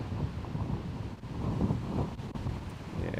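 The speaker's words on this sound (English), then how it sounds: "yeah, the wind's really starting to pick up here" Wind gusting steadily across an open outdoor disc golf course during an Australian tournament round, a broad continuous rumble of wind buffeting the microphone throughout.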